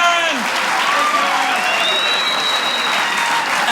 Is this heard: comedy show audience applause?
yes